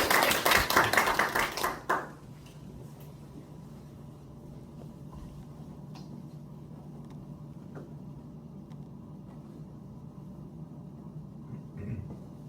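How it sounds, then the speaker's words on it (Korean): Applause for an alumnus lecturer at a Dongguk University economics alumni lecture, with a short burst of many hands clapping for about two seconds, then cutting off to quiet room hum. "동문님께 박수 부탁드리겠습니다"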